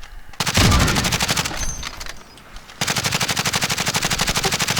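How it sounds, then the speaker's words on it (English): Rapid automatic gunfire in a Call of Duty match, a loud close burst of fast regular shots, a pause with muffled game sounds, then another long sustained volley. "Don't shoot too much if you're not shooting at something."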